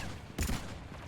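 A short burst of gunfire from Mass Effect, played on Insanity difficulty, lands in the middle of an otherwise quiet stretch. It is loud and broadband, sounds like one or two quick shots, and has no speech over it.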